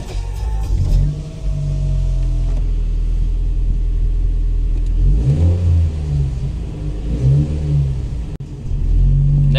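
A 2013 BMW 1 Series F20 engine on a cold start, a loud close rumble with a high idle, then a couple of quick revs that rise and fall near the end.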